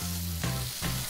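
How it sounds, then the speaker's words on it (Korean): Chestnut pancake batter frying in oil on a griddle gives a steady, close hiss of sizzling with faint crackle throughout the brief moment. "밤 부침개 반죽도 올려놓습니다."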